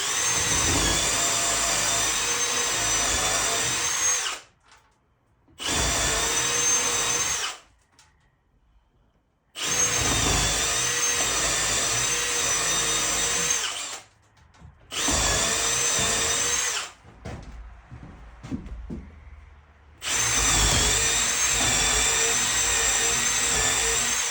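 A power drill pre-drills pilot holes in picnic-table lumber for galvanized 3-inch lag screws, running in five loud, steady, high-pitched whining bursts of several seconds each, separated by short quiet pauses.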